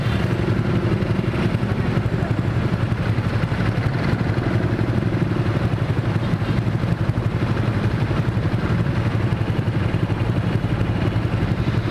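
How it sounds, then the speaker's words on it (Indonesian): A Honda Vario 150 scooter fitted with an F2Racing CL Long exhaust idles at a red light, a steady, fairly loud low rumble with constant traffic-like noise and no talk. "Knalpotnya tuh nggak berisik-berisik banget tuh knalpotnya, adem banget."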